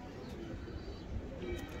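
A pigeon, apparently a golden rainbow-coloured bird kept by a breeder, gives soft low cooing that is faint and brief, set against a quiet background.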